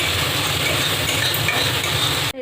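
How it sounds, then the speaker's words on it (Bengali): Spice paste sautéing in a pan for lau chingri, bottle gourd with prawns, gives a steady, loud, close sizzle with faint stirring scrapes, and no talk. "এবার মশলাটাকে আমি কষিয়ে নেব।"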